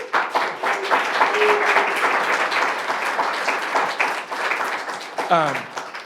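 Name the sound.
applause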